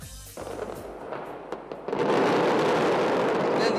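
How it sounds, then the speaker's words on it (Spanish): Mascletà fireworks in Valencia's Plaza del Ayuntamiento: scattered loud bangs give way to a dense, continuous roar of rapid firecracker explosions that stays very loud to the end. "las mascletas se disparan en la Plaza Ayuntamiento de Valencia"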